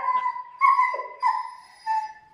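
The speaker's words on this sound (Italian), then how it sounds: "l'urlo di Juno è una cosa che si sente proprio a distanza" A black, shiny-coated dog howls nearby in a series of drawn-out, wavering tonal cries, four rising and falling calls in quick succession, with no talking.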